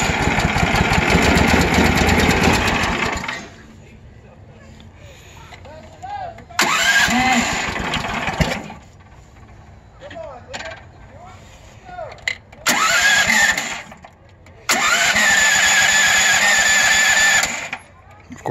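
A DuroMax XP440HPE engine repowering a Bobcat 310 skid steer cranks in several loud, rough bursts separated by quiet pauses, each attempt lasting a few seconds, with a person speaking in between.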